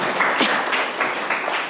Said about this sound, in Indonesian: Ya, tepuk tangan tuh Alia